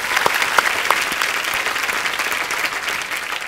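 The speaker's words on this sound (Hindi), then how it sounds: "पाजी इनके लिए पहले तो जोरदार तालियां हो जाए।" A studio audience on The Kapil Sharma Show, a comedy show, breaks into hearty applause, a full and steady roar of clapping with a few crisp claps standing out early on.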